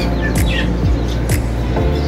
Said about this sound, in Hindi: अच्छा कौवे साहब की आवाज़ें आ रही हैं कहीं से